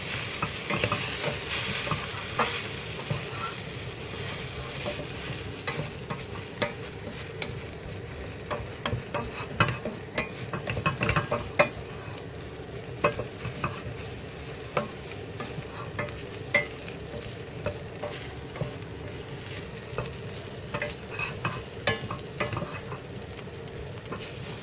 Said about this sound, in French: Et nous mélangeons.